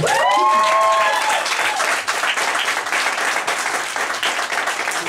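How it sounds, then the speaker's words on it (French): A studio audience at a television interview applauds in a loud, continuous wash of clapping, with a brief voice over it at the beginning. "C'est lui qu'on devrait applaudir."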